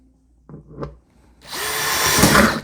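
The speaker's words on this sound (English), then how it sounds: "I'm going to actually go ahead and just drill a couple of pilot holes" A power drill boring pilot holes into a plastic Craftsman tote: two faint, brief bumps, then a loud, sustained whirring bite that runs for over a second up close.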